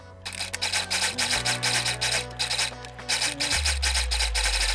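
Home sewing machine stitching the side seam of a corset, running at a steady hum in two sustained bursts with a brief pause between, loud and close with no talk.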